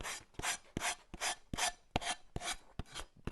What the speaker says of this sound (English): So let's just take a bit of sanding block just to take that away.